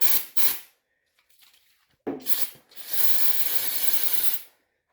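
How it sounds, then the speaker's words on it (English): Brake cleaner sprays onto an engine mount of an 8th-generation Toyota Corolla in a few close, loud hissing bursts: two quick spurts, a pause, then a longer sustained blast lasting about two seconds. "use some brake cleaner right quick to clean it up"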